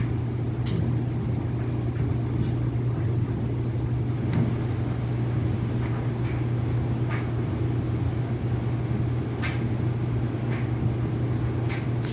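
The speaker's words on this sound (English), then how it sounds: "It's just a normal loudness for a dryer." A clothes dryer runs with a steady, low mechanical hum and rumble that drones on without change, with faint scattered clicks on top.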